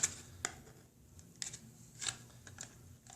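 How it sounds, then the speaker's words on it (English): Thin Stormtrooper armor plastic being trimmed along its edges with scissors, a few light, quiet snips spaced irregularly over a low background. "What I normally do is cut the edges,"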